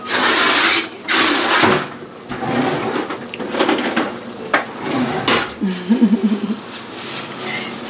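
A spatula is grabbed and mackerel croquette patties are flipped in a frying pan, with loud clattering of utensils and cookware, a drawer-like clunk and quick scraping knocks close by.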